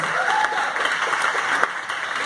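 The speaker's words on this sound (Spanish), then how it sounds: "Gracias y un aplauso para todos ellos." Applause for a jury and a team at a casting event, a steady wash of clapping from an audience that holds evenly throughout, with a faint voice or two rising above it.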